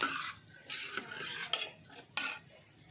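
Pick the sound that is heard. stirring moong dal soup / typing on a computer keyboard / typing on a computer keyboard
stirring moong dal soup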